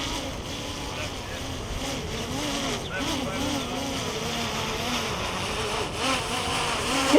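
A SkyRover X1 drone hovering and descending on a windy day, a steady whirring propeller drone with wavering pitch, heard at a moderate distance with wind rumble underneath.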